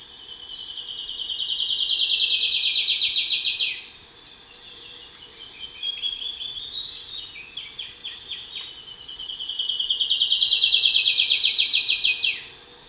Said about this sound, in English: let me play a recording of the whistling warbler